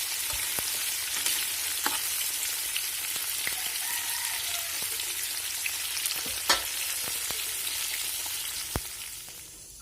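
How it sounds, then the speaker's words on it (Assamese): Washed, cut fish frying in a pan: a steady, close hiss of hot oil dotted with sharp pops and crackles all the way through, with no voices. "মাছখিনি ভালকৈ ধুই লৈছো, লৈ এতিয়া ভাজিম"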